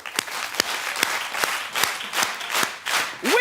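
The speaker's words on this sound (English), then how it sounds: "Listen, everybody keep the claps going." Studio audience at a daytime TV talk show clapping together in steady unison, loud sharp claps roughly every half second, with a brief whoop near the end.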